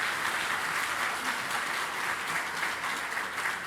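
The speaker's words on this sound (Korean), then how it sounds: "우리 박수로 환영해 주시면 고맙겠습니다." A church congregation at a dedication service applauds to welcome visiting guests, a steady, full crowd clapping that holds at an even level from start to finish.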